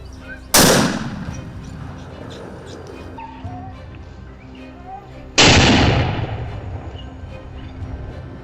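Two loud, sharp gunshots ring out from hunters shooting at wild boars on an American farm, each blast echoing and decaying several seconds, with faint dog barks and murmurs in between.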